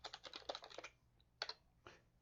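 Computer keyboard keys clatter in a quick burst of typing, followed by a pause and a few isolated keystrokes, faint and close.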